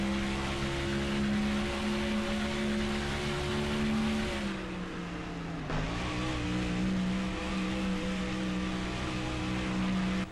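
A race car engine in NASCAR Thunder 2004 roars steadily through a final qualifying lap at Lowe's, holding a sustained high-rpm drone. The pitch dips briefly as it lifts off through a turn, then climbs back to full throttle, loud and close.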